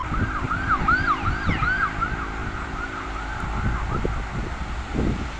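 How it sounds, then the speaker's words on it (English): An ambulance siren wails in repeated rising-and-falling sweeps as it passes outside an abandoned football stadium, loud at first and fading, with road traffic rumbling beneath it. "It's an ambulance, it's fine."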